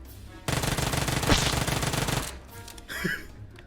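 Rapid automatic gunfire from the mobile game PUBG Mobile rattles in one dense burst of almost two seconds. A few quieter game sounds follow, and no one speaks.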